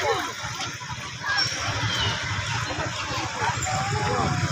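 Spring water from a natural swimming spring in San Juan, Siquijor flows and splashes steadily into a canal, a continuous close gurgling rush with a broad watery hiss.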